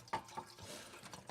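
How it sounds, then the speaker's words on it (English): Water runs from a tap into a water bottle as it fills, a faint, short trickle with a few soft splashes and gurgles. "I am filling up my water bottle here. You can listen to that peaceful sound."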